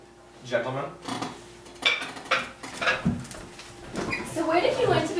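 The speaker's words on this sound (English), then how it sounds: "I can do the dishes." Dishes and cutlery being washed, scattered clinks and clatters of plates and silverware near the listener, with people talking over them.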